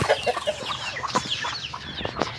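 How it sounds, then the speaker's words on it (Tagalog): Several chickens cluck in short, busy bursts close by, with scattered higher chirps layered through the brief moment. "Ayan, mga manok."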